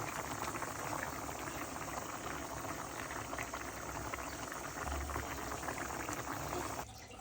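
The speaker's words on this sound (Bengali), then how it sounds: "দেখো কি সুন্দর বলক উঠতেছে" Hilsa fish and pointed gourd curry with potato boils steadily in a pot, a dense continuous bubbling and simmering hiss that stays even throughout, close and moderately loud with no talking.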